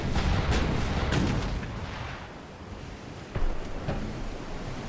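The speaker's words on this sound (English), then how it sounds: "Bruce, fire at that unknown." Naval guns fire in Ultimate Admiral: Dreadnoughts, a naval battle game set in 1890. Several heavy booms sound over a constant roar of wind and surf, with a louder blast near the end.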